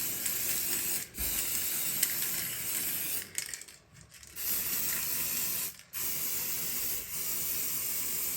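Aerosol spray can being sprayed onto diamond painting spares, a close, loud continuous hiss broken by a few brief pauses between bursts.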